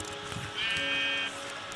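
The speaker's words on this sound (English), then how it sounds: "Can you light a sheep on fire for me?" A blocky Minecraft sheep gives a single close, clear bleat of under a second, its wavering nasal tone standing out over faint game background noise.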